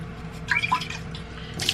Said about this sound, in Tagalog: Tapos maglalagay tayo ng tubig dito para kay Holly.